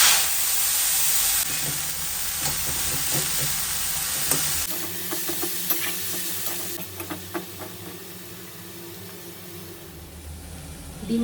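Leafy greens fry in a hot pan, first a loud dense sizzle that drops to a softer crackle with scattered stirring taps and scrapes, close by and without talk.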